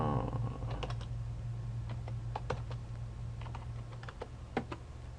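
A password is typed on a computer keyboard during router configuration: irregular bursts of close keystroke clicks over a steady low hum, no talk.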